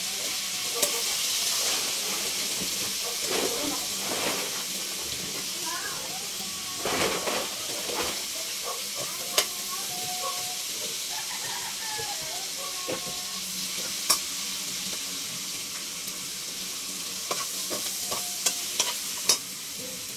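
A home cook stirs and fries a dish in a pan, with a continuous sizzle and hiss, occasional scraping stirs and sharp clinks over about twenty seconds.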